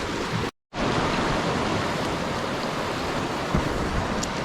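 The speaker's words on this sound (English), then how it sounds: "Looks like it's a little creek, a lot of water coming down." A small mountain creek in Kings Canyon runs full, giving a steady, broad rush of flowing water. The sound cuts out for a moment near the start and then carries on unbroken, with no talk.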